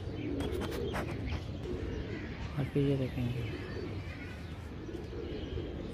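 Pigeons coo softly in a pair of short calls while feeding on scattered grain on an evening rooftop, set back under a steady outdoor hum, as a person talks nearby.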